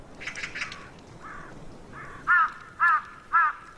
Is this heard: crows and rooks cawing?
yes